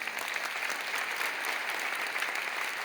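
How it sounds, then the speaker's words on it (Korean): A church congregation applauds steadily and densely throughout a teacher appointment and awards ceremony, the clapping sustained and fairly loud with no break. "큰 박수로 격려해 주시기를 바랍니다"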